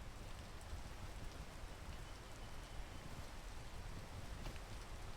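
Rain falling in the climbing video game PEAK, a continuous soft hiss of drops pattering on surfaces, evenly spread and fairly quiet, with no talking.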